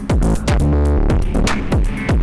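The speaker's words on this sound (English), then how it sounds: "we can get really severe distortion" Music driven through the Clip Only 2 plugin into severe hard clipping, loud, dense and crushed, with pounding beats and a harsh, saturated, flattened tone throughout.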